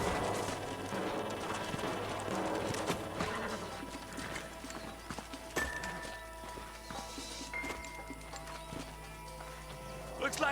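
Faint hoofbeats of horses clip-clopping along in Red Dead Redemption, mixed with a whinny and a busy background of game music and ambient noise.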